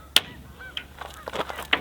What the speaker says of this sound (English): So I always have some geese in my fall videos.